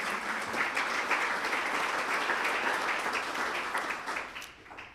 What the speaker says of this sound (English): So give Community Bank a nice round of applause.